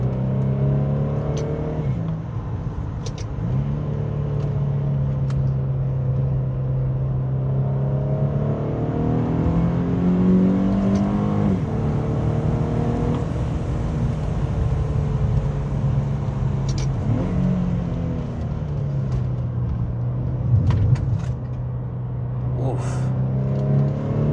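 Infiniti G37 fitted with a Z1 high-flow intake filter accelerating hard through a 60–130 run on an open road, a loud sustained engine drone climbing in pitch with gear-shift dips, heard from inside the car.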